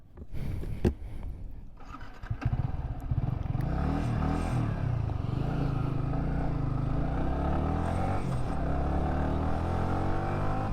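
A Yamaha R15 V3 sport motorcycle pulls away, a few clattering knocks and blips giving way to a steady rising engine drone as it rides off, close and continuous, no speech.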